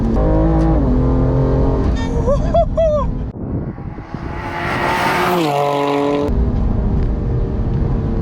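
A tuned 700 WHP BMW M2 Competition with Pure Turbos Stage 2+ roars along a road, loud engine revving through upshifts with a brief lift and tire noise before powering hard again, close and dominant.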